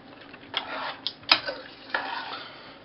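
A spoon stirs a bubbling pot of boiled pumpkin and sweet potato as semolina is added, giving soft scraping swirls and a few sharp clinks against the pot, quiet and close.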